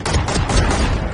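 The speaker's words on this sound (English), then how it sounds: "I got shot." Rapid burst of gunfire in the Valorant video game as the player is hit, loud, dense and close, several overlapping shots packed into about a second.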